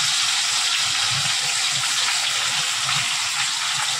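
Four fish frying together in hot oil in a pan give a steady, dense sizzling hiss that stays even and fairly loud throughout, with no voices.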